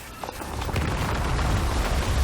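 Explosion in the video game Death Stranding, set on snowy mountains: a dull, rumbling boom that swells and holds steady, fairly loud and alone with no talk.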